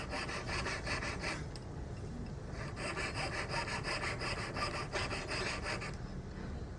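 Jeweler's saw blade cutting through a coil of metal jump rings, a quick steady rasping back-and-forth stroke repeated rapidly and close up, with a couple of brief pauses.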